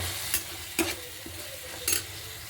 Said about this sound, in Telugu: ఇప్పుడు ఇదంతా బాగా కలిపెట్టుకుందాం.